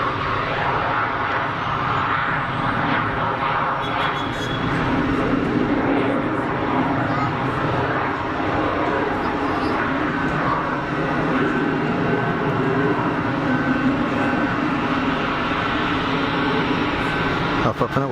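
Aircraft departing Geneva Airport, a broad steady engine roar filling the clip at constant loudness, with faint talk underneath.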